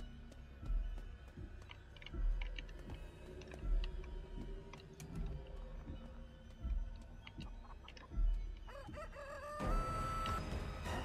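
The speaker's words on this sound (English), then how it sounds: "Oh, little chickens!" Chickens in a video game crowing and clucking repeatedly, several loud bursts spread through the clip over soft ticking game sounds, with no talk.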